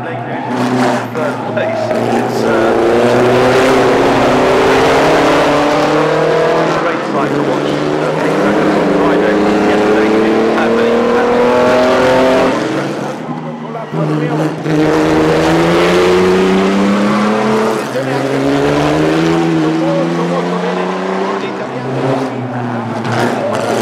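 Pre-war racing cars from the late 1920s to late 1930s and small voiturettes roar past in two loud waves, engines rising and falling in pitch as they sweep by, with someone talking over the noise.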